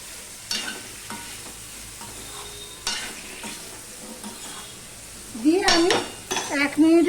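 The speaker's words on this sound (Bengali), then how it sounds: "আর এখানে যে মিষ্টি কুমড়ো আর পটল নিয়েছি সেটাও আমি দিয়ে দিলাম দিয়ে সম্পূর্ণটা আমি মিশিয়ে নিচ্ছি" Pumpkin and pointed gourd are stirred in a frying pan: a spatula scrapes and clinks against the pan in irregular strokes over a low, steady sizzle.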